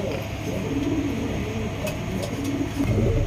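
Indian lotan pigeons cooing in a loft, low soft coos rising and falling repeatedly over a steady background hum, with occasional faint voices.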